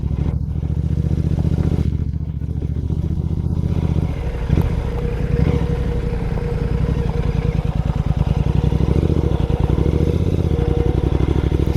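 Royal Enfield GT 650 with an RRP exhaust rides through dense forest, a loud close engine thumping in a steady rapid pulse with throttle swells and some clatter from the rough track, and no voices.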